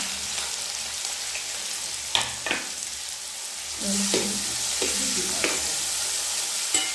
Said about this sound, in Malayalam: നമുക്ക് സവാള അവത്തിലേക്ക് ഇട്ട് കൊടുക്കാം